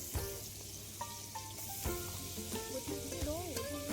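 Ginger-pea paste and cumin fry in oil in a wok with a continuous crackling sizzle and stirring scrapes beneath tonal background sounds.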